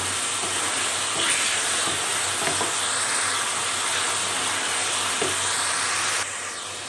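Onions frying golden brown in hot oil make a steady, close broadband sizzle that holds evenly for several seconds and then drops off slightly near the end, with no voices.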